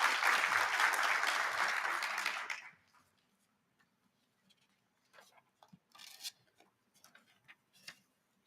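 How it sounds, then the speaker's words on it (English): An audience applauds a speaker at an investment conference, with loud, dense clapping for under three seconds that stops abruptly, then faint handling noises and small clicks. "Professor Mthuli Ncube, ladies and gentlemen, another round of applause"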